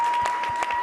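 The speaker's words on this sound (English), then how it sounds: "Can we give them a round of applause?" A room of people at a women-in-advertising event applauds the few men present, a short burst of dense, steady clapping with a few louder claps standing out.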